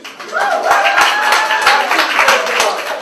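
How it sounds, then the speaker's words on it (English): Audience at a Jamaican stage play breaking into a round of applause, with a few sharp close claps and scattered clapping over a murmur of voices. "give a round of applause"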